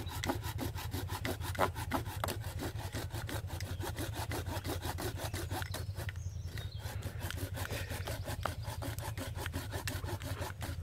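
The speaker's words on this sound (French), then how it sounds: "Je viens scier." A handmade wooden frame saw cuts through wood in quick, regular rasping strokes, close and continuous. A brief pause comes near the middle, over a low background hum.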